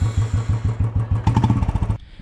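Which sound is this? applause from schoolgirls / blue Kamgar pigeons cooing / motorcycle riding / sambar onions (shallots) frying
motorcycle riding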